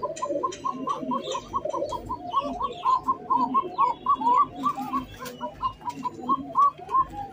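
Racer fancy highflyer pigeons coo close by in a dense run of overlapping rhythmic calls from several birds.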